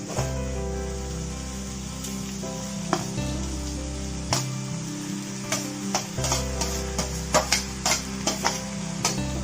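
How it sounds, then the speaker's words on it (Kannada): Potatoes stirred into frying onions in a pan for masala dosa filling, a steady close sizzle with a low hum beneath and a run of sharp spatula scrapes and taps growing busier toward the end. "ಬಟಾಟೆಯನ್ನು ಹಾಕಿ ಮಿಕ್ಸ್ ಮಾಡಿದರೆ ಬಾಜಿ ರೆಡಿ ಆಯ್ತು."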